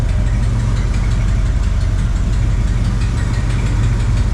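A square-body dually pickup truck engine idles steadily during a tune-up, a deep continuous rumble with a rapid knocking pulse underneath, loud and close, with no voices.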